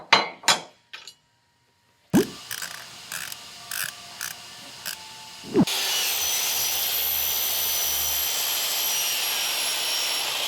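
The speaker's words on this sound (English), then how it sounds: "And now we're ready to cut our rail." A saw cuts through a vinyl railing with an aluminum insert, starting with a few short clicks and knocks, then a loud, steady, high-pitched whine of continuous cutting close by.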